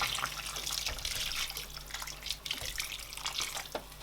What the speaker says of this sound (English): So I'm going to add more water.